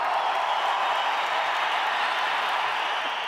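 An audience at the Idli Kadai film audio launch applauds in a large venue, a dense, steady wash of clapping and crowd noise held at an even level throughout.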